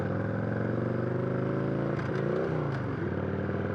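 A Victory V92C motorcycle, roughly 20 years old, idles with a steady, loud V-twin rumble and a brief clunk of the transmission partway through, close up with no talking.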